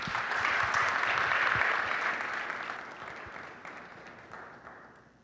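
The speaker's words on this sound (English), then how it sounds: "So once again, let's give them a round of applause." An audience at a blockchain summit gives a round of applause. Dense clapping starts strong, then slowly thins and fades, leaving a few scattered claps by the end.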